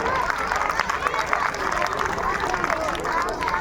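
An audience claps steadily for performing schoolchildren, a dense, even patter of many hands filling the hall with some crowd murmur underneath.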